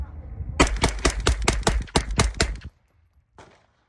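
A Freedom Ordnance FX-9 blowback 9mm carbine fired through a solvent-trap suppressor outdoors, with about nine sharp, evenly spaced shots in quick succession, then silence and a faint click.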